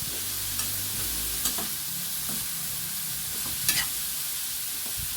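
Banana blossom adobo is stirred in a pan, giving a continuous close sizzle with a few sharp scraping strokes of the spoon at irregular intervals.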